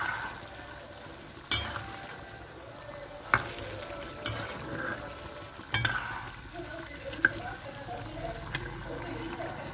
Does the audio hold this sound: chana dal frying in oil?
yes